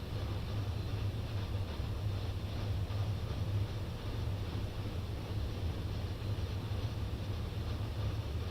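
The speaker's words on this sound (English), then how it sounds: "It's a train just going through the street." Steady low rumble of a train rolling through a street on the Arosa Line in Train Sim World 2, a continuous droning hum with rail noise, no talking.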